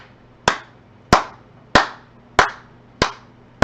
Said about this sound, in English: Those are some good claps right there, son.